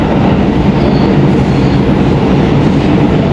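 A New York subway train runs along the track, a loud, steady rumble of wheels and carriage from inside the car that cuts off abruptly at the end.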